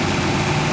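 A 1985 Toyota Supra engine idles with the air conditioning running, a steady close low-pitched hum with an even mechanical drone.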